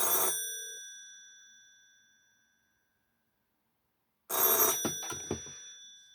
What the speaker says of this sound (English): it has a mechanical ringer